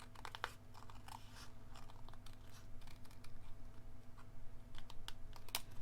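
A photograph is cut down for a scrapbook layout, making faint, close, crisp crunching snips in a quiet room with no speech.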